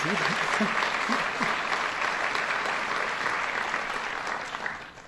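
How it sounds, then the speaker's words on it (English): Sustained applause from a large audience at a governor's budget address in Rochester, a thick continuous roar of clapping with a few voices mixed in near the start, tapering slightly at the end. "Give him a round of applause."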